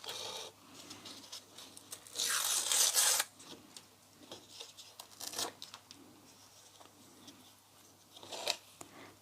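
Paper or cardboard is torn by hand in a few bursts, one long rip and shorter tears, with quiet rustling between.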